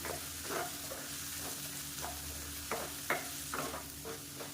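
Grated coconut and lentils stir-fried in a pan, a steady soft sizzle with repeated light scraping strokes of a spoon at an irregular rhythm, close and fairly quiet.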